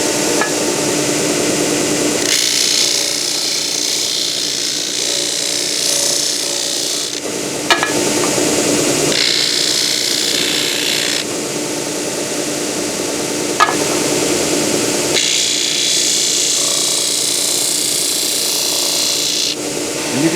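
A wooden handle for a large ball peen hammer being power sanded under running dust collection, a steady loud abrasive rasp lasting throughout with the pitch shifting in sections and a couple of sharp knocks.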